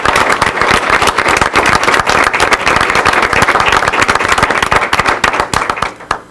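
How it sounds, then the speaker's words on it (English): Dense, sustained applause from an audience at a school board of education meeting honoring yearbook staff, many hands clapping loudly and continuously before tapering off at the end. "Let's give these guys a big round of applause."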